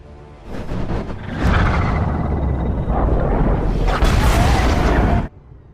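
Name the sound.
torpedo explosion in a film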